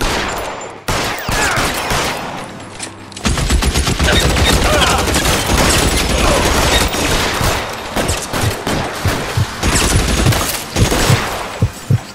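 A gunfight in the L.A. Noire video game: loud, dense bursts of rapid gunfire and sharp individual shots crackle for several seconds under occasional voices.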